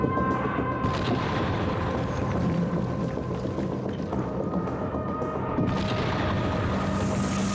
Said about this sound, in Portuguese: Minha nossa, que explosão!